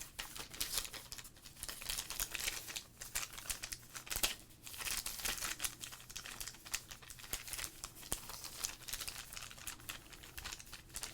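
Wrappers of 1991 Topps sports card packs crinkle and tear close up in continuous dense bursts of crisp rustling, with no talking.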